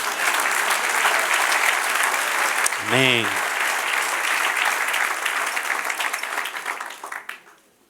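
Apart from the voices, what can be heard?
congregation applause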